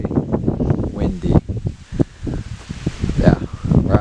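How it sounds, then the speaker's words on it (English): Gusty wind buffets the microphone outdoors, a rough low rumble rising and falling beneath a person talking throughout. "Hopefully you can hear me. Very windy."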